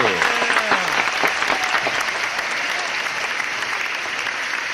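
A studio audience at a hip-hop show applauds in a dense, loud burst of clapping that gradually settles to a steadier patter, with a voice speaking over it near the start.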